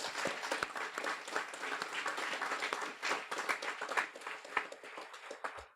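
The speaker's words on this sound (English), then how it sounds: "A big round of applause for those home training instructors" A crowd at a guide dog school graduation applauds for the home training instructors, a steady close patter of many hands clapping with distinct individual claps standing out throughout.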